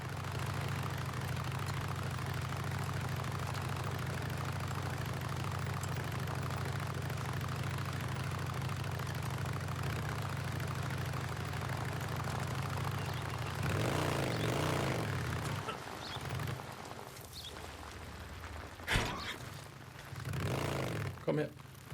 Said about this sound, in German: Ich habe gelernt, ich nehme jetzt das Motorrad, um dahin zu kommen